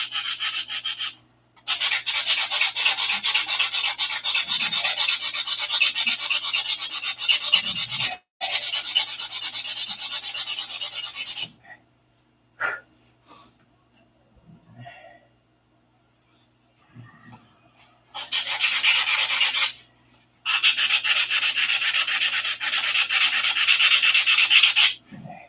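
Wooden flaps being hand sanded with sandpaper, long stretches of steady, loud back-and-forth rubbing broken by short pauses and a quieter gap in the middle before the scraping resumes, close with no talking.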